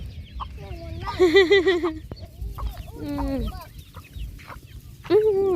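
Chickens cluck and squawk nearby in several loud bursts, with a brief murmured voice and outdoor farmyard noise around them.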